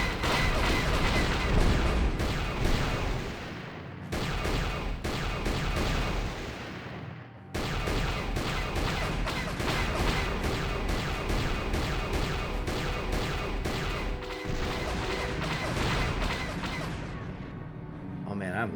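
Incoming weapons fire hammering a ship in KotOR, a dense, relentless barrage of rapid blasts and booms lasting throughout, with a voice speaking over it.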